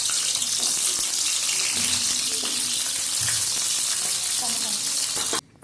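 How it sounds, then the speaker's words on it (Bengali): Cauliflower pieces fry in hot oil in a wok, giving a dense and continuous close sizzle with faint stirring knocks, then it cuts off abruptly near the end. "তেল গরম হয়ে গেলে একে একে সব সবজিগুলো ভেজে নেব। প্রথমে ফুলকপি দিলাম"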